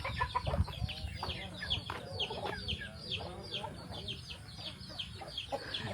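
A hen clucks repeatedly in short, fairly faint bursts, with soft background noise and some indistinct voice-like sounds.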